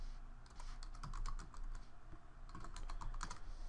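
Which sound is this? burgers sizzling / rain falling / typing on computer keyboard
typing on computer keyboard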